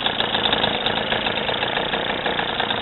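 A 3 hp two-stroke gas outboard motor on a sailboat idles with a steady, buzzy, slightly uneven putter, close and moderately loud, running alone without talk.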